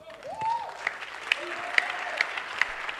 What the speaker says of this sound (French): Comme vous pouvez attendre des acclamations, nous sommes au palais des congrès.